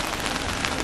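Rain falling during an outdoor Bon Odori dance festival in Nishimonai, Japan: a brief, dense, steady hiss of drops pattering on surfaces, with no voices.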